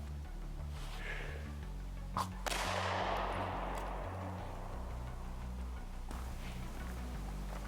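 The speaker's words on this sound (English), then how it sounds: "So we're going to go to Hornady 124, just a regular self-defense load. All right, so we're going to go ahead and fire our round" A single Hornady 124-grain self-defense pistol round is fired at a Level 4 armor plate outdoors, one sharp crack at mid-distance over steady low wind and background rumble.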